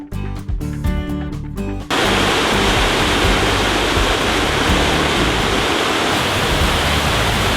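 The Cascade des Combes near Saint-Claude in the Jura, a summer waterfall with modest flow, roars as a loud, steady, broadband rush close by, after a brief opening stretch of music.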